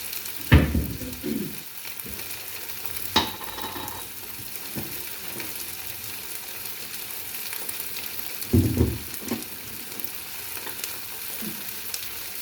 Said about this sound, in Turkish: Şöyle az daha çiçek yağı gezdireyim de böyle güzel güzel çıtır çıtır kızarsın.